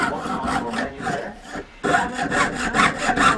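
Rapid rhythmic rasping strokes of a saw cutting through copper sheet, with a brief pause in the middle before the sawing resumes, close up.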